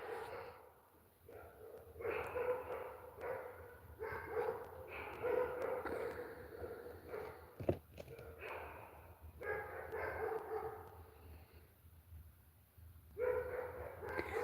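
Several dogs bark far off outdoors in a quiet nature setting, faint repeated yapping drifting in and out, with no one talking over it.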